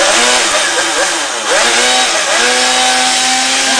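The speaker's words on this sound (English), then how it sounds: "this is a cordless broom" A cordless broom fitted with a cigarette lighter plug runs in a small shop, giving a loud, steady motor whine whose pitch dips and rises briefly as it sweeps, with no talking.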